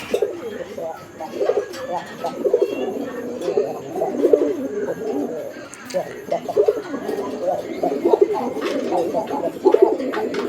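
Pigeons of a sky-blue coloured fancy breed coo continuously in a loft, soft overlapping throaty calls with fluttering and shuffling, while someone talks over them.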